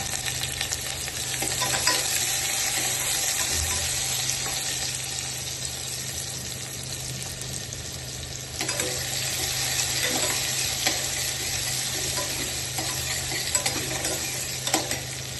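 Sliced onion fries in oil with reddened garlic for a French beans side dish. A continuous bright sizzle runs throughout, with occasional stirring clinks and scrapes close by and no talking.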